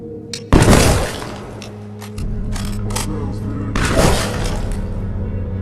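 A sniper fires at prepared targets on a shooting range: two loud, sharp rifle blasts, the first near the start and the second a few seconds later, each trailing into echoing noise, with voices talking in between.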